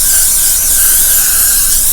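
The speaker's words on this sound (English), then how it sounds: "a little bit of spray" Aerosol can spraying during a makeup session, a loud, close, continuous hiss lasting about two seconds with no pauses.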